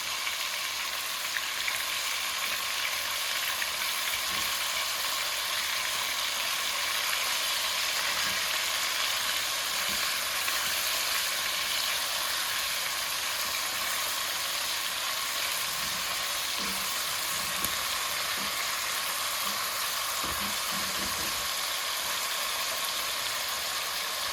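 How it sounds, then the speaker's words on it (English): Meat cubes browning in a hot pan after being flipped, giving a continuous, even hiss of sizzling fat that holds steady throughout, with faint occasional clicks and no talking. "Now we're flipping every cube over. And we're going to let it brown on the other side for another 2 minutes."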